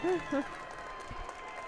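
A high school pep section cheers after an and-one basket at a Fighting Tigers vs. Edmonson Co. basketball game: a steady, dense crowd roar with a voice heard briefly at the start.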